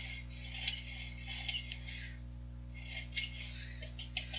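Metallic clicking and rattling of a hand-cranked baking flour sifter being handled, light repeated ticks close up over a steady low hum, with a faint voice in the background.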